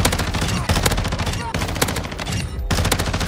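An ISO assault rifle in Call of Duty fires in fast, loud bursts, rapid snappy shots packed tightly with only brief pauses between them, close and dominant.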